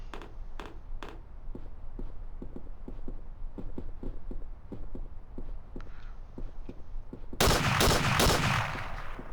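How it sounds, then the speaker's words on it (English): SVT rifle gunfire in a World War II themed video game set in Greece in 1946, rendered as a steady run of sharp single shots spaced about half a second apart, with a loud burst of heavier fire near the end. "I'm really loving this SVT rifle"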